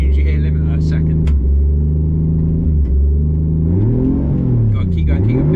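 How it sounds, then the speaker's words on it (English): A 430 bhp RB25-engined Nissan S13 revs up loudly and close, holding high before the pitch swoops down and climbs again in rough bursts. "build up the revs and then just dump the clutch, keep on the revs"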